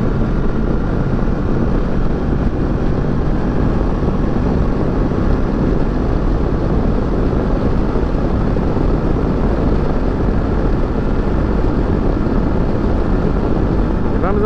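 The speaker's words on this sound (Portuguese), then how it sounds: "Vamos aí, nos acostumando com a moto." Kawasaki Versys 650 ABS Tourer 2018 motorcycle riding on a busy road, with a steady low engine drone and heavy wind rush running continuously throughout.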